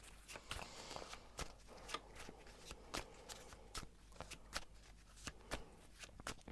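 Tarot cards are shuffled in a series of crisp, quick riffling snaps, close up and quiet, repeating in an uneven rhythm.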